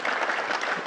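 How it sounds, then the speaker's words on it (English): An audience claps in brief, dense applause, a close, even patter of many hands lasting under a second. "Yeah, clap for him."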